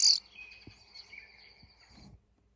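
A bird call plays back from a phone speaker as a thin, steady high-pitched tone lasting about two seconds, quiet and tinny, with faint handling knocks underneath.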